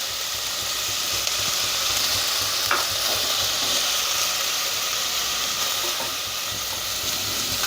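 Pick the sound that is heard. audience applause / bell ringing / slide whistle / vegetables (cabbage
vegetables (cabbage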